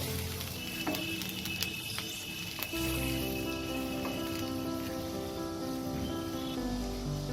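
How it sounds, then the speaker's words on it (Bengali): A pot of fish curry broth with potatoes bubbling away, a continuous close hiss and crackle of the boil with occasional soft knocks, fairly quiet and with no talk. "ঝোলটা ফুটে গেছে"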